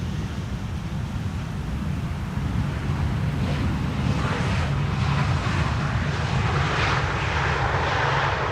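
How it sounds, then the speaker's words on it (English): A Transavia airliner on arrival from Barcelona to Amsterdam Schiphol runway 18R produces a continuous jet engine rumble with wind buffeting the microphone, growing slightly louder midway and staying steady without speech. "This is Transavia flight 5132 arriving from Barcelona."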